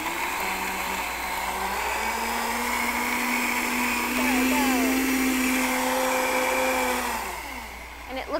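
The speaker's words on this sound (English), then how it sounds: "So I'm going to turn the blender on here." A countertop blender whirs loud and steady, blending beets, red cabbage, apples and green onion in brine, its pitch shifting slightly as the load changes and winding down near the end.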